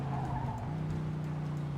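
A car in the video game Mafia II speeds and skids, a steady engine drone with a sustained tire squeal running loud and continuous throughout.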